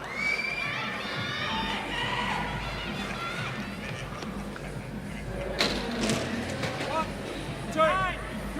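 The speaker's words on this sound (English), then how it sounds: "Animate the crowd. Get a chant going. Get a clap going." Crowd at a fitness competition finals cheering, whooping and shouting in a dense, continuous roar, with a few higher yells standing out near the end and voices mixed throughout.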